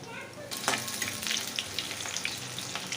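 Sliced onion hits hot oil already holding a dry red chilli, bay leaves, cinnamon, cardamom and black cumin for egg tadka dal, and a steady close sizzle jumps to a louder crackle on contact, then keeps frying with faint stirring.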